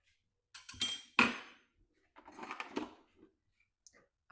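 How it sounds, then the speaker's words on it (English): A whisk clinks and scrapes against a pot as sour cream is slowly stirred into hot garden pea soup, in a few short, quiet bursts with pauses between. "I will whisk it together, but I have to be very careful and just slowly"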